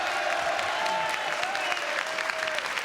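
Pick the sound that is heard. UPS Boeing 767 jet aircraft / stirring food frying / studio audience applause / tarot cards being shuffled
studio audience applause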